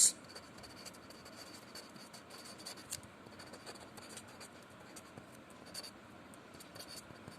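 A pen writing on paper during a class 12 maths lesson on an augmented matrix, giving a steady, quiet scratching of strokes that runs throughout with small taps and pauses, close by and faint.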